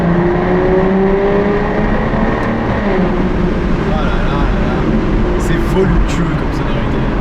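Aston Martin DBS V12 in sport mode with valves held open, revving loudly inside a tunnel, a dense sustained engine roar with rising pitch sweeps and echo, voices talking over it.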